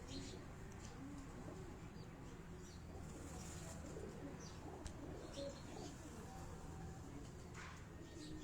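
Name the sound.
breeder pigeons cooing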